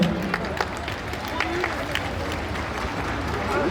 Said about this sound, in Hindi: एक बार यजमान परिवार का हम तालियों से स्वागत, वंदन, अभिनंदन करते हैं।